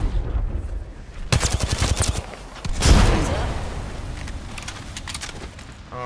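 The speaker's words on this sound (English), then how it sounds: "Fox 3 launching missiles" Rapid bursts of missile fire launch in Apex Legends gameplay, a dense rattling volley of sharp repeated blasts followed by a louder whooshing burst, loud and close over background game noise.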